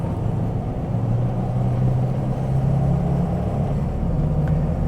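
A 2000 Ford Excursion V10 engine running steadily while the SUV drives, giving a constant low rumble with mild road noise and no talking.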